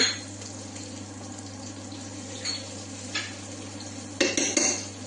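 Ginger garlic paste hits browned onions in a pan for dum biryani, giving a soft sizzle under a steady low hum, with occasional spoon scrapes and a few louder metallic clinks near the end.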